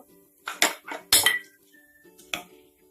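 Several metallic clanks and knocks of a frying pan and cookware being set down on a gas stove, spaced irregularly in a quiet kitchen, with a brief faint ring after one.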